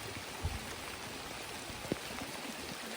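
Steady rain falls outdoors on a trip, a soft continuous hiss with a couple of brief drip-like knocks, no voices.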